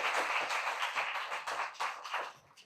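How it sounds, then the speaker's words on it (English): Audience applause at a town hall on a data center, scattered hand claps forming a quiet, fairly thin round that carries for a few seconds and fades near the end. "let's give one big round of applause for panel 2."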